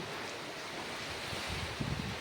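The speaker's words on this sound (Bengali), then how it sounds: "এখন একটু কমেছে তাও হাওয়া বৃষ্টি দিচ্ছে" Storm wind buffets steadily during heavy rain, a dense, continuous roar with no breaks, like surf rushing past the microphone, and no one speaks.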